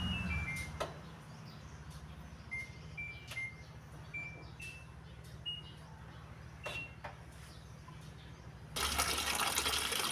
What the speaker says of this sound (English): now let's turn the water back on to see if there's any leaks.